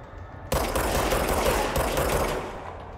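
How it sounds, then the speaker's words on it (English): Video game gunfire in Control erupts suddenly after a quieter start, a loud, sustained rattle of rapid shots with a brief hitch midway before easing slightly near the end. "There's someone shooting me from this side, I think."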